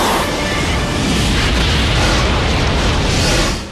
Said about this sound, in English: the explosion cripples her ship, and Blair is forced to abandon her